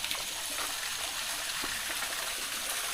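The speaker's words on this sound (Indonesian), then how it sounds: "seperti gemericik air terjun super mini di situ" Gentle trickling water from a tiny waterfall at a spring in a forest, a steady soft babble with a hissy wash of flowing water, fairly close and continuous, no talking.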